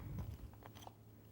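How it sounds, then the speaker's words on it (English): Crunchy homemade granola with coconut and almonds, topped with a splash of milk, is bitten and chewed: a few soft, close crunches, strongest at the start, then quieter chewing. "It's crunchy, so hopefully you don't hear all the crunch here. It's crunchy granola."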